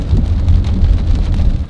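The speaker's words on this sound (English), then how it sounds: "It's a rainy morning here in Fredericton." Steady rain on a morning in Fredericton, New Brunswick, a loud, dense wash of falling water with a deep rumbling low end, continuous and close with no talk.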